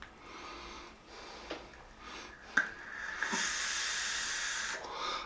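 Vaping on an Aspire mod with a Reverie tank and homemade custard liquid: a few short breathy hisses, then one long, steady close exhale-like hiss of vapour.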